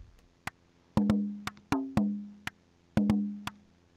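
Physical-model synthesizer patch imitating a conga-like hand drum, not a sampled recording: a sparse pattern of dry, close hits, some short and clicky, others with a ringing pitched tone that decays over about half a second.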